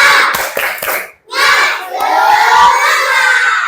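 Primary school class in an Indonesian lesson doing the rhythmic 'tepuk semangat' clapping chant, a loud group of children shouting the chant together with clapping, close and energetic with a brief pause partway.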